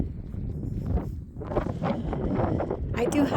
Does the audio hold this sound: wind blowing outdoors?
yes